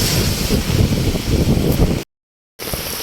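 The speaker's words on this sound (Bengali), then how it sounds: "ভালো হাওয়া দিচ্ছে।" Wind gusting steadily over an empty, waterlogged road during rain, a loud, broadband rush close to the microphone that cuts out briefly to silence before resuming.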